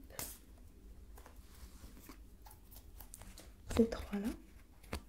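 Playing cards handled and three drawn from a deck, soft papery shuffles and slides with a brief louder flurry near the end, under quiet soft-spoken French talk.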